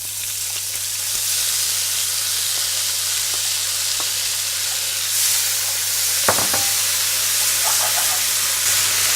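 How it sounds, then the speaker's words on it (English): Raisins stirred in a pan of butter, giving a steady close sizzle with faint scraping and clicking from the stirring, then a few sharper taps near the end, no voices. "just a very quick stirring with the butter that I added"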